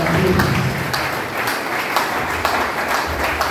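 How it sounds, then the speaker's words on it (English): Audience applause at a ceremony in Ghana, a dense, steady wash of many hands clapping loudly and continuously throughout. "Clap for yourself."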